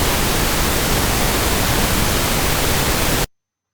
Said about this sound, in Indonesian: Ini contoh dari pink noise.